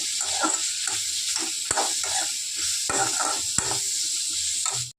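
Tomatoes and masala sizzle and fry in a pan for a paneer curry, a steady close hiss with a few sharp clicks of a spoon against the pan.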